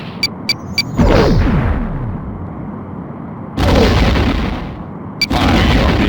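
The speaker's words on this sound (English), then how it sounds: "Torpedo away. Keep firing. Our phaser fire missed." Phaser and photon torpedo fire in the Star Trek TNG: A Final Unity video game, loud booming shots with rumbling tails that fade, separated by brief higher-pitched beeps, with no voices.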